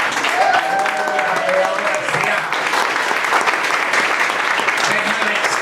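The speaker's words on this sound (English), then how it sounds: "give him a big round of applause" Applause from a crowd at a Dallas chorizo menudo breakfast event, a dense, steady wash of many hands clapping for several seconds, loud and continuous with a few voices faintly mixed in.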